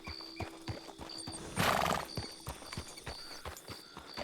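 A horse's hooves clip-clop in a steady rhythm, broken midway by a loud, close whinny, with a faint tonal hum underneath.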